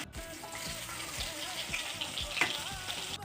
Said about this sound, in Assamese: আগতে মই গোটেই মাছখিনি ভাজি ল'ম